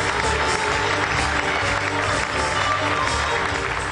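Circus audience applauding a high school dressage show, a dense, even wash of clapping from a large crowd, steady and fairly loud throughout.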